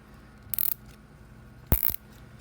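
Two short bursts of small ratcheting clicks as screws are slowly tightened on a rig for a broken key fob, close and crisp with a pause between them, no talking.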